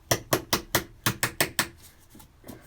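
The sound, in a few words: hammer tapping a clip on a BMW 318 diesel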